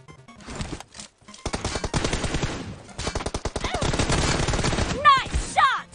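Rapid video game gunfire from a team deathmatch match, loud bursts of automatic shots with brief pauses between volleys, then a few whooshing effects near the end.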